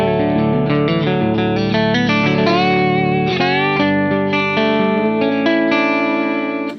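Slide guitar runs through a DIY clone compressor pedal, playing a loud, steady phrase of gliding, sustained notes with a slightly darker tone that fades at the end, and nobody talks.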